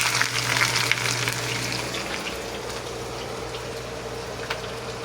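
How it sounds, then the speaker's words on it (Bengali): Onions fry in hot oil in a home kitchen, a close, steady crackling sizzle that starts busy and settles into an even hiss for several seconds. "ওকে, তেল গরম হয়ে গেছে আমার, এখন পেঁয়াজ দিয়ে দিই"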